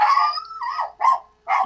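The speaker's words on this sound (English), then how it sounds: "Your dog is happy too." A dog gives a few yelping, whining barks close by, one drawn-out cry followed by two short yips, with no talking.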